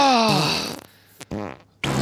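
A loud, drawn-out fart sounds up close, followed by a couple of shorter squeaky bursts after brief pauses.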